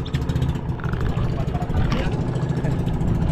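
A Honda outboard motor on a small fishing boat idles with a steady low, rough mechanical rumble throughout, close and fairly loud, while a voice can be heard talking faintly underneath.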